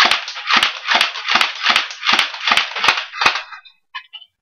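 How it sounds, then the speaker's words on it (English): Airsoft Beretta M92 pistol fired at a target, eight sharp evenly spaced snapping shots in quick succession, followed by a couple of fainter clicks. "next up is the Beretta M92 pistol, which my other friend is going to be shooting"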